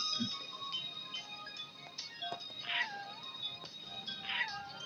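A cat meows in the video game Sakura School Simulator, two drawn-out rising-and-falling calls at moderate loudness over a busy background of game sounds.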